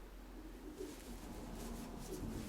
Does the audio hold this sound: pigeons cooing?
yes